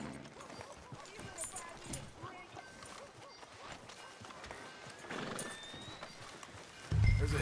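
Horse hooves clip-clop with occasional snorts and whinnies from a mount in the video game Red Dead Redemption 2, set against quiet town ambience, with people talking over it.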